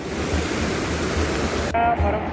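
The flooded Ambika river rushes past in a loud, continuous roar of churning water that fills the whole stretch, with a brief shift in tone near the end.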